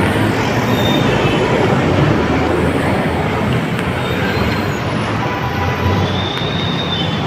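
An elevated MRT train in Manila rumbles loudly and steadily, with wheels squealing faintly as it passes close overhead.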